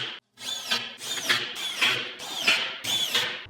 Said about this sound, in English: I grabbed my drill to drill pilot holes and then attached the screws in those